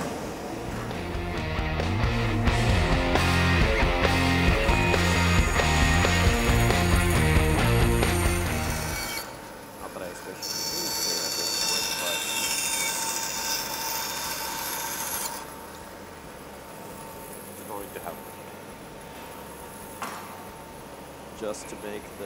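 Bandsaw slicing excess off a pine guitar body blank, a steady rasping cut under a loud, busy sound in the first half, then a quieter whirring run with light knocks toward the end.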